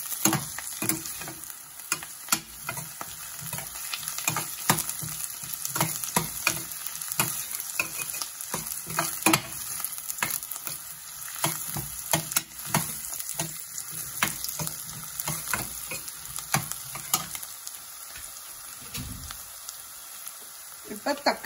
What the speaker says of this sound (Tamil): இப்போ நான் இஞ்சி பூண்டு போடுறேன்.